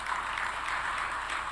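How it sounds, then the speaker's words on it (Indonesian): A steady wash of audience applause at a regional government policy event in West Java, moderately loud and continuous with no distinct voices. "Tepuk tangan."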